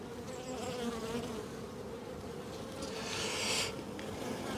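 Honeybees buzz in an open, crowded beehive full of brood, a continuous dense hum close by, swelling briefly louder near the end as individual bees pass nearby.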